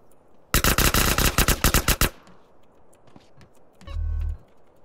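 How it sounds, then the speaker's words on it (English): Tec-9 or micro SMG fire in GTA San Andreas: a loud, close two-second burst of rapid automatic shots, followed by quieter game sounds and a short low rumble. "I believe this is the Tech 9 or the SMG, micro SMG."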